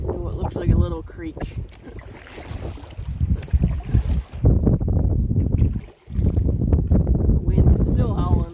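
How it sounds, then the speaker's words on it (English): Strong wind blowing over a canoe on the narrow, creek-like headwaters of the Montreal River, a steady roaring rush with gusts, heard close under a voice that talks through most of the clip. "The wind is still howling at our back."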